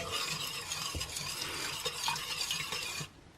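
Spoon stirring a milk pudding mixture sweetened with stevia sugar in a pan, a steady scraping swirl with a few soft knocks, close and continuous, no talking, stopping abruptly near the end.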